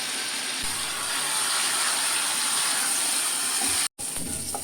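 Spices with mashed tomato frying in a pan for folui fish curry, giving a steady, close hiss and sizzle that runs almost unbroken, with one very brief dropout near the end.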